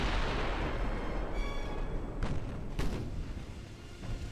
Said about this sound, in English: oh, we got a torpedo hit.